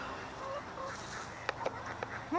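Backyard poultry ducks quack and honk in short, separate calls, close and fairly faint, with a couple of sharp knocks.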